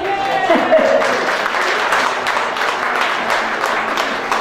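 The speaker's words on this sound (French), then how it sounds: "comme Monique Elino, que je vous demande d'applaudir" Steady applause from an audience at a Telethon charity event, dense and sustained for several seconds at moderate loudness, a voice briefly heard over the start.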